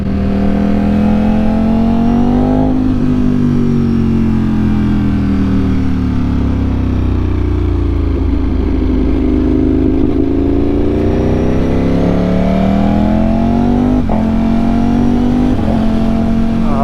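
A 2025 Ducati Panigale V4S with an Akrapovic exhaust pulls loud and close, its engine note rising and falling steadily through the gears as the bike rides along.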